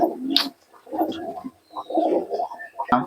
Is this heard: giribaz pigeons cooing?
yes